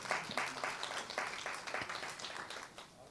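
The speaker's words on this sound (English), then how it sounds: "So big round of applause for all of you." Faint, distant applause from participants at a feedback session, a scattered patter of hand claps rising and falling for a few seconds with no voices over it.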